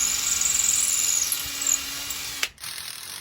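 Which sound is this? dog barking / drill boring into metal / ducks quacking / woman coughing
drill boring into metal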